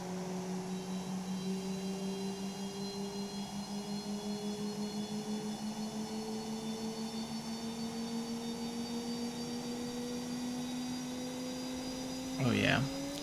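A Blue Angels solo jet's left engine starting up, a steady droning whine that slowly climbs in pitch throughout, with a brief rushing swell near the end.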